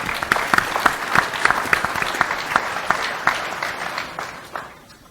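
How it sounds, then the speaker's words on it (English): Applause from a seated audience at a question-and-answer session on science and innovation, a steady dense patter of many hands clapping for about five seconds, tapering slightly toward the end. "can I ask you to give a big hand of applause"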